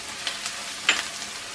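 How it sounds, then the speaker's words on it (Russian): Butter and fried onion sizzle in a frying pan, a steady close crackle with a few sharper pops, and no talk. "Когда лук обжарился, добавляю в сковородку сливочное масло."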